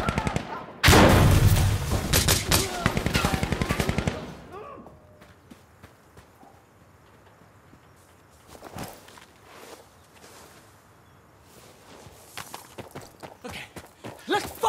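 Gunfire in Insurgency Sandstorm: a loud, dense burst of rapid shots at the start, then scattered quieter single shots and footstep-like thuds further off over the remaining seconds.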